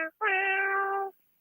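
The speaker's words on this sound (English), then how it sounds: "I think Big Kitty was making an attempt to sing" A cat gives a brief chirp and then one long, drawn-out, clear meow close by in a quiet room.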